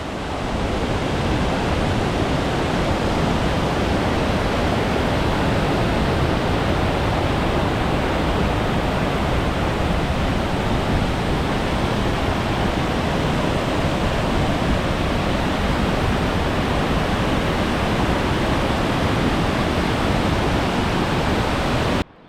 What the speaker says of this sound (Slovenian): Slapovi na Martinbrodu.